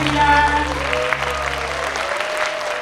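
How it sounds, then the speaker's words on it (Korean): Warm, dense applause from the audience at a book launch event welcomes the author onto the stage, steady throughout while sustained background music tones fade out partway through. "여러분 따뜻한 박수로 맞이해 주시기 바랍니다"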